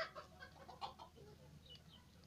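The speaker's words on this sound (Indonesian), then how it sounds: "Ayam keluar dari kandang." Soft, scattered clucking from a chicken nearby, a few quiet calls over low background noise.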